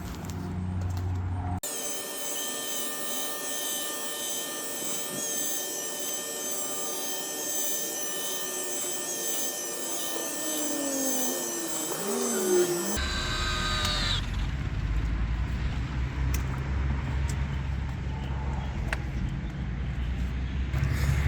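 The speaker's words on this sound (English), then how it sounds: "we're going to do a test buff just to be sure" A polisher buffing oxidized gel coat on a 21-foot boat whirs steadily with a high, sustained whine and rubbing noise, then shifts to a rougher, lower grinding sound; close and continuous.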